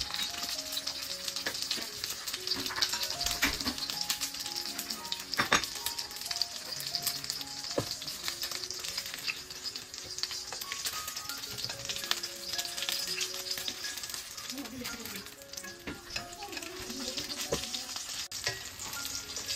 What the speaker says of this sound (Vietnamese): Đem con cá này ra chiên.